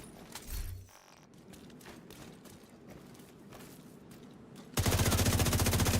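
Gunfire in Ghost Recon Wildlands: a short low thump early on, scattered dull shots under game ambience, then a loud sustained burst of rapid automatic fire near the end.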